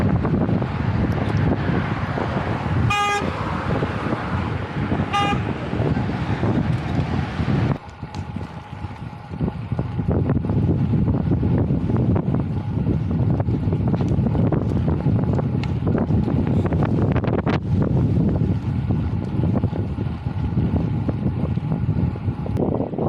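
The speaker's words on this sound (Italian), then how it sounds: "Aperto sul mare a Barcola, vento in faccia" Steady, heavy wind roars and buffets the microphone on the open seafront at Barcola, Trieste, a constant low rumble that never lets up, with a couple of brief high whistles early on.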